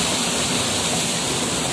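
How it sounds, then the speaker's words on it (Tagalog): A forest river runs in a dense, steady roar of water close by, loud and unbroken throughout, with no voices over it. "Nasa running water tayo. Ilog, ayan."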